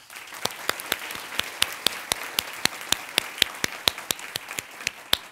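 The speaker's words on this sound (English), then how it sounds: "Please give them a round of applause." An audience claps for honoured guests being recognised for twenty years of service, with a run of distinct, evenly spaced claps, fairly faint and alone.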